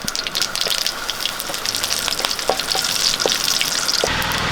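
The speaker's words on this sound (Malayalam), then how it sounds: "അര ടീസ്പൂൺ കടുകിട്ട് കൊടുക്കാം രണ്ട് പച്ചൽ മുളക് മുറിച്ചത് രണ്ട് രണ്ട് കറിവേപ്പിലയാണ്" Mustard seeds, green chillies and curry leaves fry in hot coconut oil, a dense crackling sizzle with scattered sharp pops, close and steady throughout, with a brief stirring scrape near the end.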